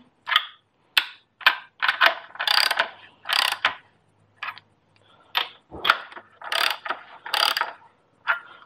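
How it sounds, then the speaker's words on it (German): Ratchet tightening the crankshaft bolts on a Hanomag Brillant 600 engine, heard as close, crisp bursts of rapid clicking, roughly a dozen short runs separated by brief pauses. "So, und jetzt können wir vom Prinzip die ganze Chose festschrauben."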